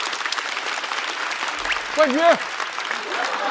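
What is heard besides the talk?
audience applause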